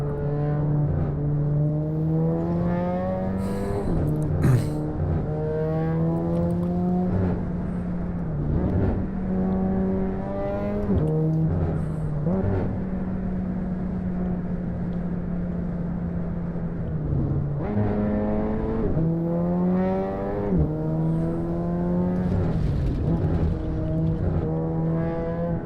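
In the racing sim Assetto Corsa, a car accelerates hard, the engine whine rising sharply and dropping at each gear change in repeated pulls, loud and continuous throughout.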